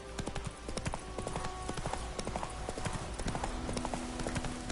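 Roach the horse gallops in The Witcher 3 video game, a rapid, steady clip-clop of hooves that continues throughout at close range, with occasional talk over it.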